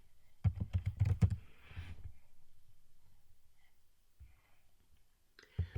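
Bursts of quick, close keystrokes on a computer keyboard, a fast cluster of clicks followed by a quiet pause and a few more taps near the end, with no voices.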